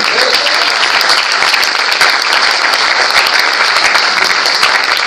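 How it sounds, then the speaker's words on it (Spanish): A church congregation applauding during a sermon, loud and close, with rapid dense clapping from many hands held at a steady, energetic level throughout. "¿Puedes darle un aplauso a Cristo?"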